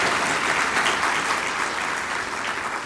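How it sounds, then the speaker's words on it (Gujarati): A seminar audience in a university hall breaks into dense, even applause that holds at a strong level for a few seconds without pause. "તાળી તો પાડો એલા."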